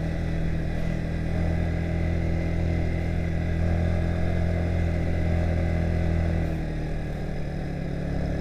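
A motorcycle rides along the road toward Pangasan beach near Pacitan, its engine a steady, loud drone that holds on throughout with a low rumble and no pauses.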